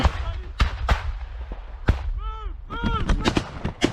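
Close, loud gunshots go off in the middle of a battle. Single sharp cracks and short bursts come at irregular intervals, and shouted voices are heard between them.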